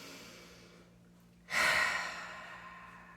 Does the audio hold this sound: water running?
no